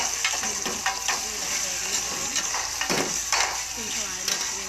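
Onions frying in oil for a Telugu ivy gourd curry, sizzling steadily close by, with occasional stirring scrapes and clinks of a spoon against the pan.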